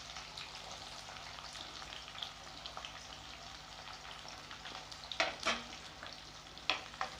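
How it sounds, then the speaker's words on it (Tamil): Small onions sautéing in hot oil with mustard seeds and curry leaves, a steady close sizzle with a few sharper crackles and pops near the end, no talking. "வெங்காயம் லைட்டாக வதங்கிக்கிறட்டும்."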